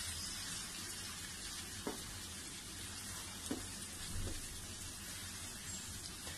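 Chopped onions fry in hot oil in a pan for mutton karahi, a dense, continuous close sizzle with a few faint clinks of stirring.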